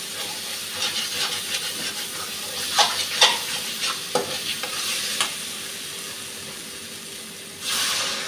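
Spice paste of ground chilli and turmeric mixed with water hits hot oil in a pan, a loud steady hissing sizzle with stirring scrapes and spatters, then a fresh burst of hiss near the end.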